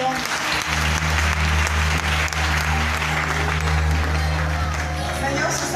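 A church congregation breaks into sustained, dense applause, many hands clapping at once, with a low musical drone and some voices beneath it.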